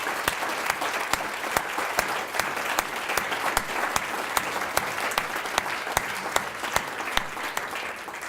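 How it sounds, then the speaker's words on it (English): Steady applause from a gala dinner audience at a business awards ceremony, honoring award committee members as they stand; dense, continuous clapping fills the room with a few sharper claps standing out, without speech. "Would those people just stand so we can acknowledge them with a round of applause"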